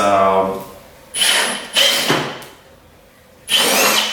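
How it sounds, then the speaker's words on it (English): A power drill bores into an electric skateboard battery enclosure, a 12S6P pack of Molicel P42A cells, in three loud, rough bursts separated by brief pauses, with a quieter whirring lead-in. "Whenever I'm drilling into the enclosure, I always make sure to leave the battery inside."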